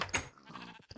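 A sheep from the TerraFirmaCraft Minecraft mod lets out a short, close bleat, a quick nasal cry lasting under a second.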